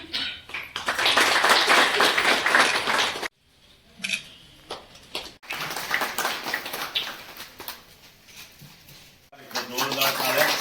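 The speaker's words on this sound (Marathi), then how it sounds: "जोरदार टाळ्या" An audience claps loudly at a temple function honouring newly elected councillors, with bursts of applause broken by short pauses and a fresh round near the end.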